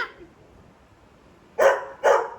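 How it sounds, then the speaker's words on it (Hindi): A dog barks twice in quick succession, loud and close, after a near-silent pause, with no talk over it. "वो भौंक रहा है कि क्यों हाथ लगा रही है उनको"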